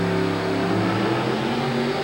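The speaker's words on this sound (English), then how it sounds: "he's got the big motor in the truck, and he could very well do it" Big-motored monster truck at a 1988 USHRA truck pull in Denver, Colorado, its engine holding a steady, loud, droning rev with low throbbing harmonics that stays constant for about two seconds with no talk.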